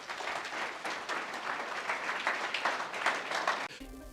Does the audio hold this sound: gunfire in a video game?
no